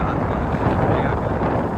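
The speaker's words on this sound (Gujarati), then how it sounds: "કેટલો વધારે પવન છે જો" Strong wind gusts at a high mountain night camping site around 8000 feet near Bir Billing, roaring steadily and buffeting the microphone in a loud, dense rush with no clear speech.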